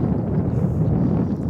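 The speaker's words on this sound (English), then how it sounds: "I apologise for the wind if that's playing up." Steady, loud wind buffeting a microphone on an open hilltop near Silbury Hill, a continuous low rumbling roar with no voices.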